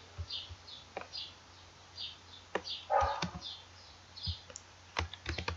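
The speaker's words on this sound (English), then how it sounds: "I'm sorry for my neighbor's dog" A neighbor's dog barks faintly in the distance, a few short yips scattered among quiet, rhythmic clicking of a computer keyboard being typed on indoors.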